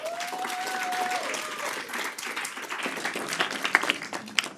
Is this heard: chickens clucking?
no